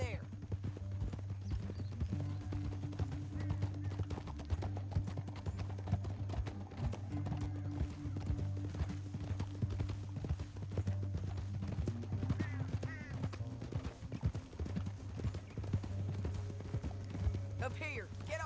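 Horse hooves clip-clop in a steady rhythm throughout in the video game Red Dead Redemption 2, with a low constant hum underneath and occasional voices speaking over the trotting.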